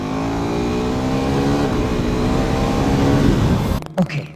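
A KTM Duke 390 motorcycle accelerates hard from a standstill toward 100, its engine note climbing steadily in pitch and loudness, then cutting off sharply near the end with a brief clunk.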